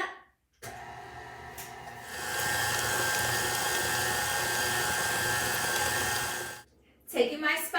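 An electric mixer beats whipping cream into green velvet chocolate chip cookie cake batter, a steady close whir that grows louder after a couple of seconds, runs evenly, then cuts off abruptly.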